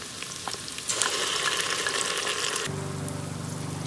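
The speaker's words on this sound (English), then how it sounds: "Keep sauteing them till they turn golden brown" Shallots with ginger garlic paste fry in an Instant Pot, a soft steady sizzle that swells louder mid-way and then continues under a low hum, with no talk.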